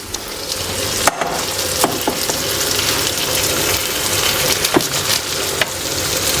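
Prawns are rinsed and cleaned by hand under running water, giving a steady hiss with scattered soft knocks and splashes throughout. No one speaks.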